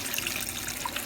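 Water runs steadily into a Giantex portable washing machine as it fills. The gushing is faint and even, with no voices.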